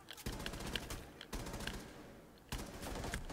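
Rapid automatic gunfire in the Rainbow Six Siege video game, dense sustained bursts broken by short gaps, loud and close with no speech over it.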